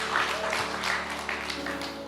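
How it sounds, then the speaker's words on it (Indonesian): An audience at a church service gives a light, scattered round of applause, soft and brief, with some murmured voices underneath. "Kayak bolehlah beri tepuk tangan dikit-dikit."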